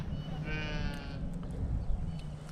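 Sheep bleating on a farm: one clear nearby bleat rising over a low rumbling background, followed by fainter bleats and some livestock noise.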